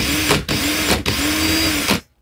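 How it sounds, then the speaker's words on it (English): A power drill spins in reverse to loosen a piece from a core, its motor whirring steadily through three close bursts with brief dips between them before cutting off. "put my drill in reverse"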